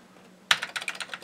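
Keys clatter on an Amiga computer keyboard, an A600 or A1200, in a quick burst of several sharp presses that starts after a short quiet lead-in and carries on in a close, fairly loud run with no voices.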